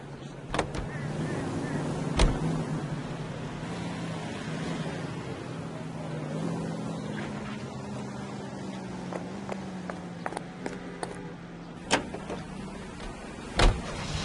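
A car driving in L.A. Noire, a low steady engine drone with occasional sharp clicks and knocks, moderately loud and without talk.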